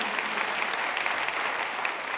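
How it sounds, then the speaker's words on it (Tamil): A packed hall audience claps together in a full, dense round of applause, steady and close for the whole stretch with no voices over it. "சிங்கப்பெண் சிவநந்தினிக்கு ஒரு அரங்கு நிறைந்த கைத்தட்டல் கொடுங்க"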